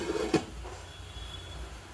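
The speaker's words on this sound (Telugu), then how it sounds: "కలిపేసాను మూత పెట్టేస్తాను" A lid is set on a cooking pot of onions for coconut and raw tamarind curry. There is one short metallic clank that rings briefly, then only a quiet kitchen background.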